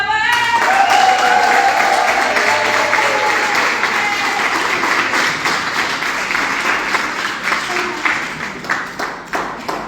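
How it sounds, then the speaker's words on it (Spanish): A crowd at a gathering of advisors and coordinators breaks into loud, dense applause that starts with a brief high cheer, then slowly thins out into scattered individual claps by the end. "¡aplaudan!"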